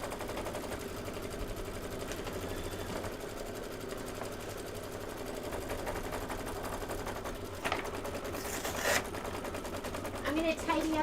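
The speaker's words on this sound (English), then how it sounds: "This is 2 minutes of stitching." Embroidery machine stitching a satin outline, a fast steady mechanical rattle running throughout at moderate level, with a few louder clunks and brief scraping near the end.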